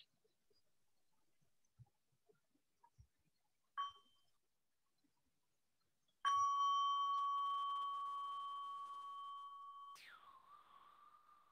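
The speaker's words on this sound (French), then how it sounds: "j'ai bien un son de cloche" A bell chime rings out clearly in a quiet room, one sustained tone that slowly fades before a second, brighter strike, preceded by a few soft knocks and clicks.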